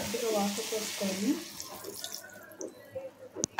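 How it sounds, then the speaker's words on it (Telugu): Water is poured into a pan of frying potato and green pea curry, a short splashing pour after a brief stretch of voice, ending in a few sharp clicks. "ఇప్పుడు కొంచెం వాటర్ యాడ్ చేసుకుందాం"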